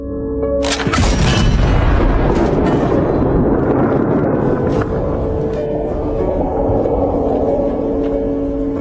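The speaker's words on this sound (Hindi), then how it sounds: "कप्तान ने उसे तोप से उड़ाने का आदेश दिया। फायर!" A heavy cannon shot booms out, followed by a long, loud rumbling roar that fills the rest of the moment.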